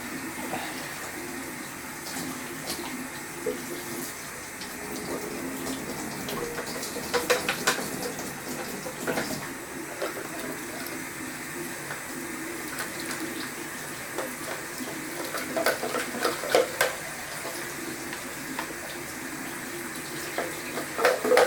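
Hot water runs steadily from a tap into a sink or vessel during home beer-kit brewing, a continuous close splashing rush with occasional gurgles and bursts.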